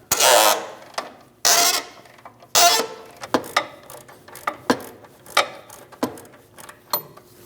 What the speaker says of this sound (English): we're going to hold the head of the bolt and loosen the nut